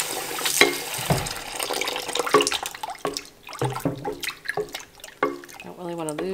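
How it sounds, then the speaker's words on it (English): Tap water runs and splashes while homemade butter is rinsed and pressed in a bowl, close and fairly loud, with drips and sloshing throughout and a person talking over it. "keep doing this until the water runs clear"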